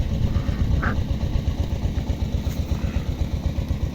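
A diesel tractor engine chugs steadily nearby in a village garden plot in Ukraine, in a low, even, pulsing throb that lasts throughout.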